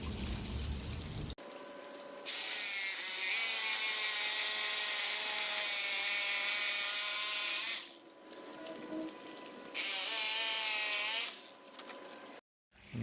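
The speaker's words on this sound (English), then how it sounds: "I'm just going to use a jigsaw to cut" A jigsaw cuts a notch into an old wooden door sill with a loud, buzzing rasp in two long bursts, separated by a brief pause and followed by quieter handling noises.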